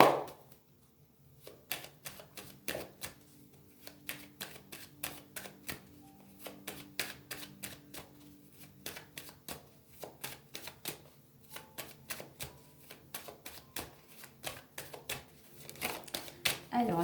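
Oracle cards being shuffled and cut, a long run of quick crisp riffling snaps in irregular bursts, close and fairly quiet, with someone speaking softly underneath.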